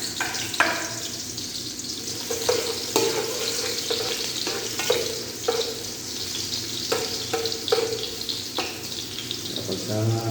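Garlic fries in hot oil with a constant crackling sizzle, while a utensil stirs in repeated short scrapes and clacks against the pan, close and fairly loud throughout.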